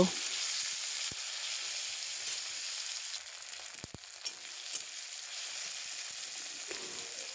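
Green chilli, chopped onion and tomato frying together in hot oil, a steady bright sizzle with occasional clicks of stirring, close and alone without voices.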